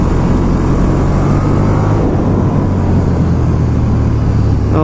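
A 2019 KTM 1290 Super Duke R motorcycle being ridden, a steady loud engine drone mixed with heavy wind rush throughout, no talking.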